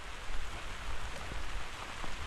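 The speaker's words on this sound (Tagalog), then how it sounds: "Inaapura tayo ng ulan. Yan oh." Steady rain pattering and hissing on a surface, a dense even wash of drops with no voices.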